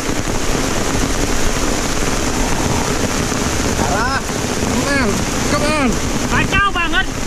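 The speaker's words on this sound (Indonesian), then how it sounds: "Kacau banget, bro. Hujannya gede. Gak berhenti-henti loh." Heavy, relentless rain pours down during a cold-weather freshwater prawn fishing trip, a dense steady hiss filling the scene with wind buffeting the microphone, while a voice speaks over it toward the end.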